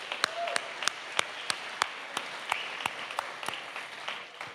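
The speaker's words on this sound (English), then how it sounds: "Give yourselves a round of applause." Applause at an anniversary gala for a senior services charity, fairly faint, with a few sharp, regularly spaced claps standing out over a soft spread of clapping.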